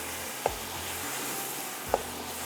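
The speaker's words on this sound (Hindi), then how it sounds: "इस तरह से आपने इसको थोड़ा सा भून लेना है।" Rice sizzles gently as it is fried in oil for yakhni pulao, a steady soft frying hiss broken by two brief clicks of a spoon or pot.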